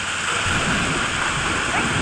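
Rumbling storm ambience inside the Roblox game Grow a Garden, a steady wash of rain-like noise with low thunder rolls and no clear single crack, continuous and fairly loud throughout.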